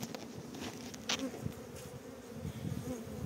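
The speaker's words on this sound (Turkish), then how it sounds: "Bu Belfax bir arı." Honey bees buzzing steadily on the comb during a hive frame inspection, a dense, continuous close-up hum with no talking.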